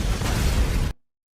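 A cannon blows up in a samurai action film, a loud, dense, rumbling blast that roars for nearly a second and then cuts off abruptly into silence.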